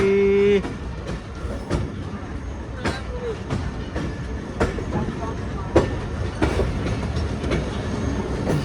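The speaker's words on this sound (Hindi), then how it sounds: "ये जी कानपुर रेलवे स्टेशन।" Train at Kanpur railway station, wheels clattering and knocking over the rails in irregular bursts under a rumbling undercarriage, close and fairly loud, with a short horn-like tone at the start and station crowd voices around.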